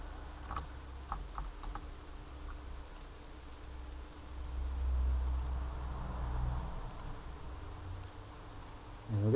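Faint, sparse keyboard typing clicks come in short bursts over a low background hum and rumble, with brief quiet gaps between keystrokes.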